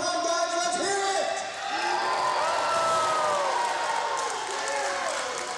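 A live wrestling crowd at a UEW Absolute Power match between Rhett Titus and Thom Latimer makes a sustained roar of mixed shouting, whooping and booing, with individual voices rising and sliding over the dense background noise.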